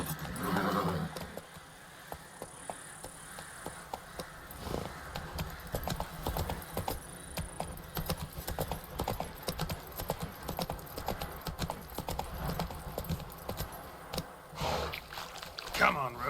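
Horse trotting in The Witcher 3 video game, a steady clip-clop of hooves running through most of the stretch, mixed with game ambience and music and a few spoken lines over it.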